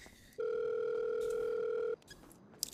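In a GTA RP game, an incoming phone call sounds as one steady electronic tone lasting about a second and a half, clear and close, with quiet background sound before and after.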